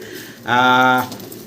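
A single close, brief coo from a pigeon, a low harmonic call lasting about half a second over faint background noise.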